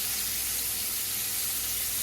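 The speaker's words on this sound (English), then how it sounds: "I am frying it up with a little Tony Sacchery on it" Catfish seasoned with Tony Chachere's sizzles in a frying pan, a steady dense hiss of hot oil running without break, fairly close and unaccompanied by talk.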